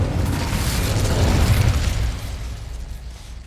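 Incendio fire spell cast in Hogwarts Legacy erupts as a loud, dense whooshing blast of flame that roars for about two seconds, then tapers off into a fading crackle.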